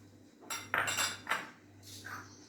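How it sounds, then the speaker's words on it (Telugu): Spoon clinking and scraping against a bowl while mixing a fruit salad of pomegranate seeds, apple, grapes, banana and mango, a few quiet close metallic strokes over a low hum, no talking. "ఇలా అన్నీ కలిసేలాగా బాగా కలుపుకోవాలండి"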